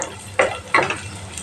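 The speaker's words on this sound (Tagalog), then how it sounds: "Tsaka, ayan, nagigisa na tayo." Malunggay leaves and mixed vegetables are tossed in a hot pan, giving two quick bursts of sizzling and scraping over a low frying hiss, close and clear, with no voices.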